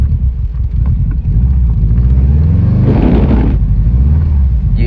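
Subaru WRX engine rumbling low and steady while the car tries to reverse on a gymkhana course, with a brief louder rev surge in the middle.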